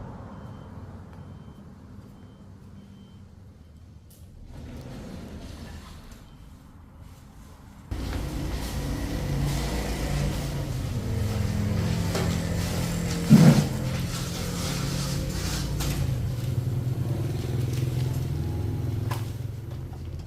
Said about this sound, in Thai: รถสตาร์ทละ